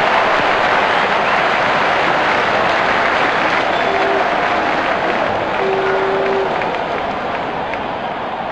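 A loud, steady roar of a stadium crowd cheering a six in the mobile cricket game Real Cricket, Pakistan versus Bangladesh, a dense wall of applause and noise that fades slightly toward the end.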